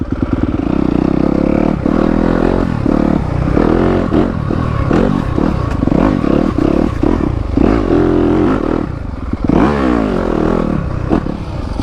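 A 2021 Yamaha YZ250FX dirt bike engine sputters and revs loudly and close, its pitch dropping and surging in uneven bursts as it stalls and fires back up, with clattering mechanical noise throughout.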